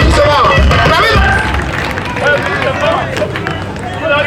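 A festival crowd cheering and acclaiming, loud dense babble of many voices with shouts and scattered clapping, close and sustained throughout.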